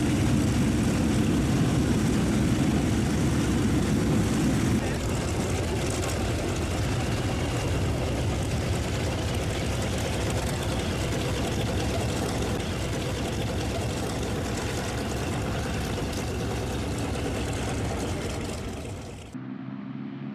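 An F4U Corsair's R-2800 radial engine drones steadily with propeller noise, loud and sustained for the whole stretch before cutting off abruptly at the end, with no voices.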